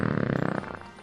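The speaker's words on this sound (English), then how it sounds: "adding a fart sound over that Tim Curry expression will never not be funny to me" A fart sound effect laid over a film shot of an actor's expression, a single loud, low buzzing blast of about half a second that fades out.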